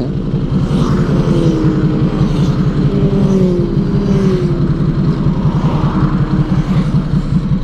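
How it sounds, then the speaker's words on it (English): A large group of motorcycles rides past on a group ride, producing a loud, continuous rumble of overlapping engines with rising and falling revs as bikes stream by close at hand. "Let's watch all the bikes go past."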